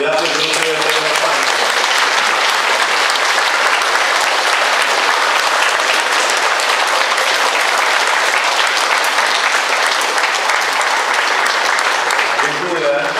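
Sustained, dense applause from an audience at a National Independence Day ceremony marking Zręcin's 790th anniversary, steady and loud from start to finish with no pauses.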